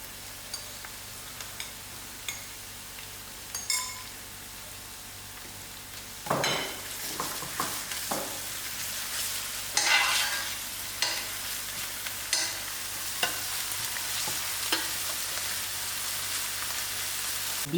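Ground garlic, chillies and curry leaf frying in a pan over lowered heat for a spicy Durban fish curry, giving a steady soft sizzle with occasional stirring scrapes and clatter, close by and with no talking.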